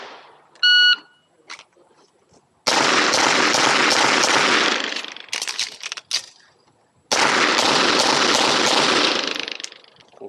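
A shot-timer beep starts a string of pistol fire from a Phoenix Trinity H-Tac at an IDPA match. Loud, close shots crack in two bursts amid heavy echo and noise, with a pause between them.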